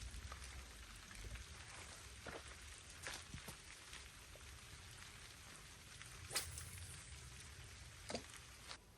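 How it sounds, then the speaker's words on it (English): Rain falls on a mountain lake during a fishing trip, a faint, even hiss of drops with a few soft taps and knocks scattered over it and no voices. "it's really starting to rain"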